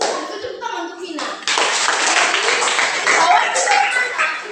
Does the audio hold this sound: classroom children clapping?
yes